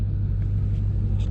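Manual stick-shift car engine at idle rumbling low and steady, close up, as it gets ready to pull away from a complete stop in first gear.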